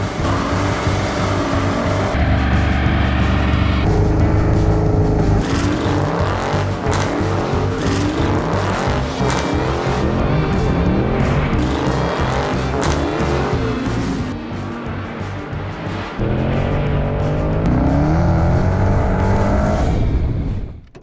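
A 2020 Dodge Charger ScatPack with a 6.4-liter 392 Hemi V8 driven hard: a loud, continuous engine roar runs throughout, revving up repeatedly with gear changes and a brief dip before climbing again, then cutting off at the end.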